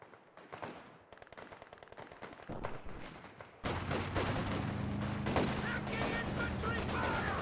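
Gunfire in a video game battle: rapid light shots crackle at first, then a heavy, dense barrage of continuous automatic fire erupts and keeps going loudly.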